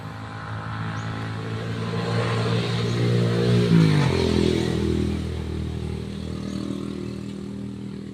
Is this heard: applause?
no